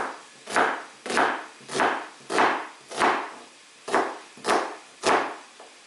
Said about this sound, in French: nous allons découper l'oignon en petits morceaux